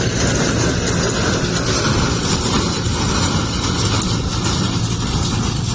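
A tractor engine runs steadily while baling straw in a harvested rice field, a loud, continuous broadband rumble with no talk.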